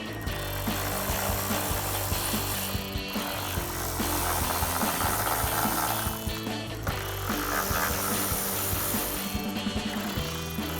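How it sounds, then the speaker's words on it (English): A ratchet with a T15 Torx socket loosens bolts on the inner structure of a 2024-2025 Ford Mustang deck lid. It makes steady ratcheting clicks under a dense, continuous background layer. "Just grab your T15 Torx socket and we'll start removing these."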